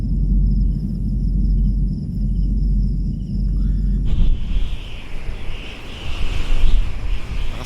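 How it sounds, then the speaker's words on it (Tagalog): Strong wind roars and buffets steadily against the microphone at a hanging bridge at night, loud and continuous, with a rushing gust that rises partway through. No one speaks. "lakas hangin ano"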